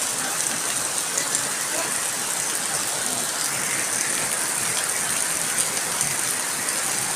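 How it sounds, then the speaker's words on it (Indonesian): Heavy rain pours outdoors at an agriculture faculty in front of an administration office, a dense, steady hiss with fine crackling spatter that holds at constant loudness for the whole stretch, with no clear voice over it. "hujan deras di Fakultas Pertanian di depan kantor administrasi Bulastri Unit Tanah."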